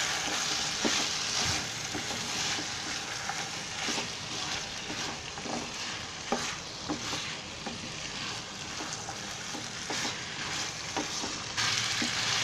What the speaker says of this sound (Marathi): आता त्याच्यामध्ये गाजर आणि फरसबी हे सर्व भाज्या आहे ना ते आपण आता एकत्र शिजवून घ्यायचे आहे.